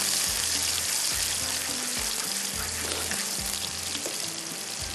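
Onions browning in a pan for Kashmiri chicken masala give a steady, dense sizzle and crackle of frying that runs unbroken throughout, with faint stirring scrapes and no voices.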